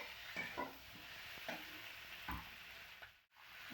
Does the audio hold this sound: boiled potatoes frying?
yes